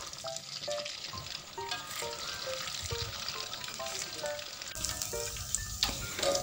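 Cilok frying in hot oil, a dense steady sizzle with crackling pops and spatters, loud and close, with stirring noises partway through and no voices.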